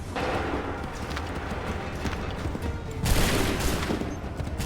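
A musket volley in Assassin's Creed 3 sounds as a dense crackling burst of gunfire that swells suddenly and loudly, over a background of ongoing battle noise with scattered shots and hoofbeat-like clatter.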